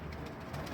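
Pigeons in a loft cooing softly and continuously, low murmuring calls close by with no talking.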